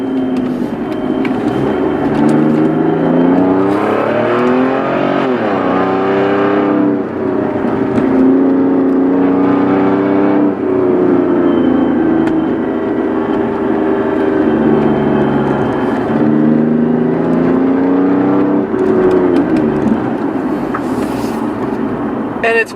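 Exhaust of a car with a failed exhaust, heard from inside with the windows closed while rolling downhill in sixth gear: a loud, steady, deep drone with slow small shifts in pitch throughout.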